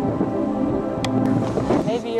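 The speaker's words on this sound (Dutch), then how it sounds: "Bovenop de berg blijkt het hard te waaien." A strong wind blows on top of Al Kubta mountain in Jordan. It roars and buffets steadily without a break, close up and loud, like gusts hitting the microphone.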